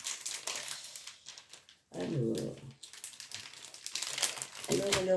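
A folded plastic pouch from a bead cross-stitch kit is opened with bursts of close crinkling and rustling, the loudest around the middle and end, between stretches of quiet handling and talk.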